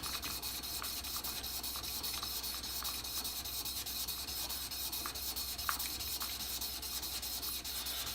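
Steady, continuous scraping of a Defiance #3 plane blade's back rubbed on a 1000 grit water stone, close and even with faint wet grit texture throughout, no voices.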